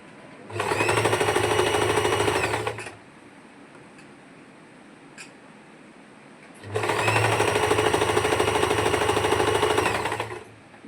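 A sewing machine stitching a pleated frock runs in two loud, close bursts of rapid even whirring, each about two and a half seconds long, with a quiet pause between them.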